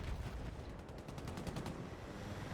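Rapid rocket pods firing from an attack helicopter in Battlefield 6, a dense burst of repeated sharp launches and blasts running continuously at steady loudness with no talk.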